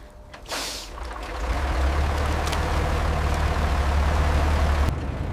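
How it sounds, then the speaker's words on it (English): A World War II DUKW amphibious truck from 1945 on the Rhine, its heavy engine rising into a loud, steady low rumble that holds for several seconds before cutting off sharply. "it's a truck from the river"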